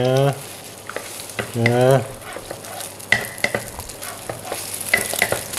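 Eggs sizzle and crackle in hot coconut oil for green chili fried rice while a spatula stirs and scrapes the pan, with brief speech and a sung syllable over the frying.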